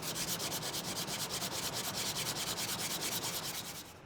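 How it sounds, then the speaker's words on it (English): Sandpaper rubs in quick, even back-and-forth strokes over a glued gap in the corner of a wooden beech board, a close, dry rasping rhythm with no voices. "I'll rub a drop of glue on it and sand over it."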